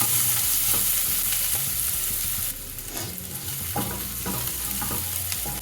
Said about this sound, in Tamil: இந்த வெங்காயத்தை ஒரு 2 நிமிஷம் நல்லா வதக்கிக்கலாம்.